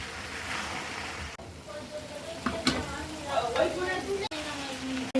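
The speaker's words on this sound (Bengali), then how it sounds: "এখানে ভুড়িটা কষাবো বেশ কিছুক্ষণ" Beef tripe sizzles and fries in a pan while being stirred, a steady broadband hiss with occasional clatter of a utensil, close and moderately loud throughout.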